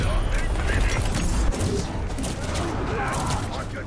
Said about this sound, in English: Goldfang is just peppering me with these exploding bolts from far away